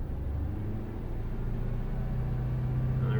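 A car engine held at a steady idle-to-low rev around 1,600 to 1,800 rpm during a mass airflow sensor check, a constant loud rumble with a slight rise near the end, no talk.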